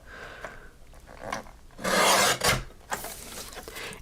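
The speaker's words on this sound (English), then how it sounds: "I'm going to go ahead and trim the front off" A craft cutout being trimmed at the front, heard as soft rasping and scraping strokes that swell into a louder, steady rough rub before settling back to quieter scratches.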